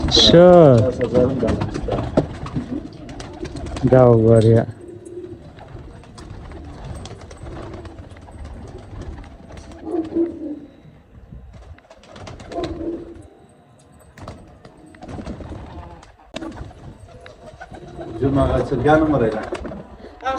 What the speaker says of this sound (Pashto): دا د کوترو لپاره داسې شوقیانه ځای جوړ کړی دی